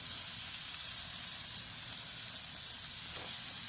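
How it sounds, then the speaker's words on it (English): Seasoned vegetables on a BBQ grill give off a steady, even hiss of sizzling and steam, continuous and fairly quiet with no talking over it. "We're getting some steaming out of this"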